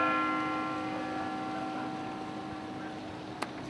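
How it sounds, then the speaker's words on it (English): Luton Town Hall's big bell, the largest in Bedfordshire, struck once, its loud ringing hum decaying steadily over several seconds, with a brief sharp click near the end. "You're going to hear the biggest bell in Bedfordshire in a minute."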